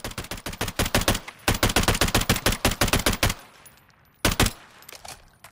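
A FAMAS F1 rifle in Call of Duty Modern Warfare III fires two long, rapid automatic bursts of sharp, loud shots, then a short pause and a brief final burst, with no voices.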